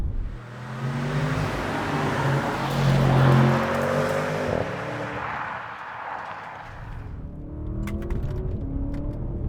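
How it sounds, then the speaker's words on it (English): A 2023 Audi S8 engine roars and climbs in pitch as it accelerates hard from a launch, loud and close, with gear-change dips and a steady rising drone. "Slam the brake, slam the throttle, build up the boost."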